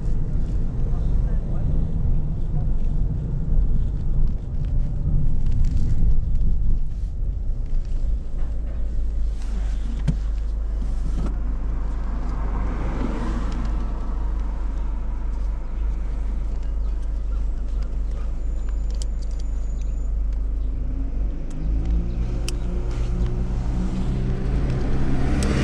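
A car drives up a quiet high street in the afternoon, a steady low engine drone with wind buffeting the microphone and faint voices at times.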